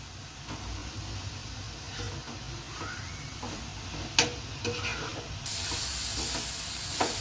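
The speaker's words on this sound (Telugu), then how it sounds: "మంచిగా ఫ్రై చేయాలి క్యాబేజీ కొబ్బరి మొత్తం కలవాలి" Shredded cabbage and coconut fry in a pan, a steady soft sizzle broken by close scraping and tapping as a spoon stirs the mix, with no voices.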